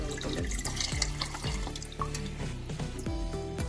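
Masoor dal lentils are washed under a running kitchen tap, with a steady stream of water splashing and gurgling into a bowl in the sink. The sound is close and continuous, with no talking.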